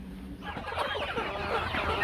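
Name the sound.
desi chickens clucking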